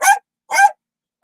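A dog barks in two short, sharp bursts about half a second apart, with a third starting at the end. The barks are loud and close, with silence between them.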